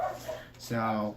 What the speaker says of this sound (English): excuse my dog. Not my dog, my brother's dog, but he's barking at a person.